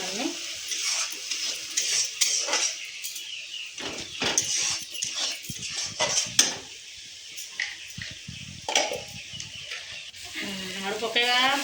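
Tomato curry cooking in a pan, with stirring scrapes, utensil clinks against the pot and light sizzling running throughout, fairly close, with brief background voices at moments.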